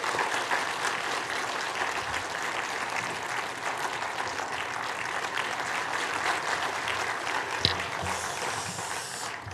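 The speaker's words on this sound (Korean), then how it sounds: "김혜재 장로님을 뜨겁게 박수함으로 우리 맞이하겠습니다." Steady, warm applause from a congregation at a Korean church prayer meeting, dense clapping holding at moderate level for nearly ten seconds before beginning to thin out.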